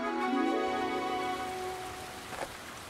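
A cartoon waterfall pours in a steady, dense rushing wash of water that stays constant and fairly loud throughout, with a brief tonal sound over it at the start.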